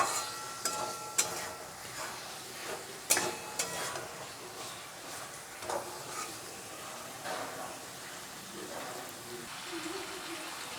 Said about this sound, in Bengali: মশলা দিয়ে চিকেনটাকে আমি ভালো মতো করে কষিয়ে নেব।